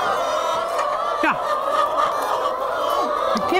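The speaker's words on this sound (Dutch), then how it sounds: "De kip die zingt altijd, hè?" Chicken clucking continuously in an outdoor setting, steady close calls with a few sharper rising notes, no talk over it.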